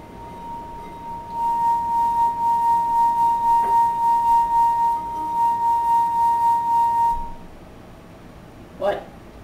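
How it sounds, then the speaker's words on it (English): A crystal wine glass rubbed around its rim by a finger sings a steady, pure ringing tone that holds for several seconds, slightly pulsing as the finger circles, then stops; a brief clink follows. "why does a crystal wine glass produce sound when you rub your finger on it?"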